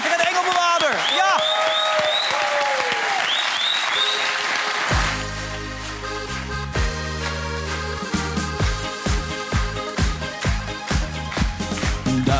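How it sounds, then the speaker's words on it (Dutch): Studio audience applause on a Dutch television talk show, loud clapping and cheering over a singer's voice for the first few seconds, then giving way as a pop band starts playing with drums and keys. "geef me een enorm applaus"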